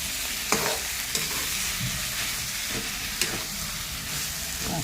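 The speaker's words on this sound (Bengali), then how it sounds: "এখন আমি নেড়ে চেড়ে দেবো সব কিছু দিয়ে" Fried ginger stirred in a sizzling pan, steady frying hiss punctuated by several scraping clicks of the utensil against the pan at irregular intervals, close and clear.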